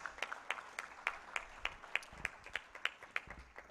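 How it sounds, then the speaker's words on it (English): An audience at the 2023 Pearl of Africa Tourism Expo applauds the chief guest with faint, distant claps that fall into an even, steady rhythm, roughly three beats per second. "Ladies and gentlemen, another round of applause for the chief guest."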